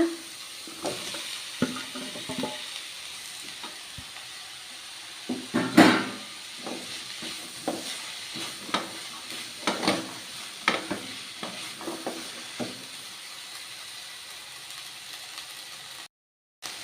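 Potatoes sizzle in a hot pan while a spoon stirs and scrapes them for a home recipe, steady frying hiss broken by irregular clinks and scraping strokes, close and fairly loud, with no talk.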